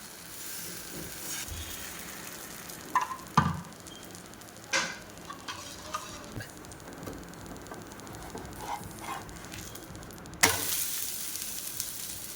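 Dhirde batter cooking in oil on a hot tawa, a faint quiet sizzle with scattered clicks and taps of a spatula, a louder hiss near the end.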